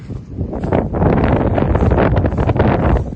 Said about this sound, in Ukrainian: Так, трохи вітер, що може мене дуже аж не буде чітко чути